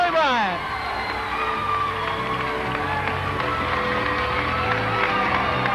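At the 1993 Miss California pageant, a large audience cheers, whoops and claps for the contestants, a loud sustained roar of voices and applause filling the hall.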